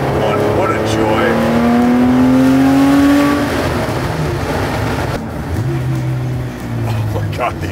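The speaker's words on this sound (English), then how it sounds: "the exhaust tone of this car is so bitchin'" A Porsche 964 on the road, its exhaust droning loud and tonal as it pulls and rises in pitch, then settles, while people talk inside the car.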